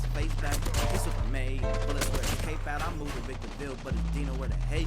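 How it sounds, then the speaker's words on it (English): Sharp pistol shots from a J358 pistol in a video game, rapid bursts of cracks repeating over loud music with a heavy bassline. "before I show you here a small clip of the pistol."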